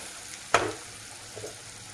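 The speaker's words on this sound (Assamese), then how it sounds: "আমি এবাৰ লৰাইছোঁ হালধি দি, হালধিৰ কেঁচা গোন্ধটো গুচি যায়।" Fish fries in a pan with turmeric. One distinct scrape of a stir comes with a brief sizzle burst, then a fainter second stir, over quiet background hiss.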